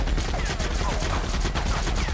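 A machine gun fires in The Outer Worlds video game, a rapid continuous burst of shots with sharp repeated cracks over the full stretch, loud and close.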